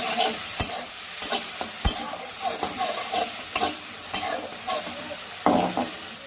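Spice paste cooking with salt while a spoon stirs and scrapes the pan, a steady close sizzle broken by sharp clacks of utensil on metal at irregular intervals.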